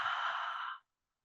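A single deep, breathy exhale during yoga breathing, close to the mic, holding for about a second before cutting off into silence.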